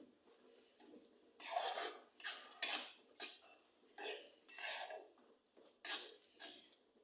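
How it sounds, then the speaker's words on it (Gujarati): Millet flatbread (bajra rotla) being stirred into a gravy in a pan, with repeated scraping and clinking of a spoon against metal in irregular bursts, close and moderately loud, no talking. "હવે આપણે એમાં બાજરાનો રોટલો નાખી દઈશું અને સરસ રીતે હલાવી નાખશું।"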